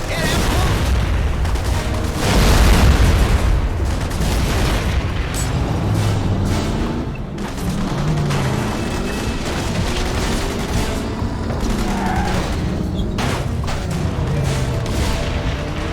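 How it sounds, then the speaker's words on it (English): A petrol station erupts into a fireball in the World War II video game The Saboteur, a heavy boom swelling around two seconds in, followed by sustained roaring blast rumble and scattered crackling pops, with gunfire-like bursts and faint voices throughout. "all we did is blow up a petrol station"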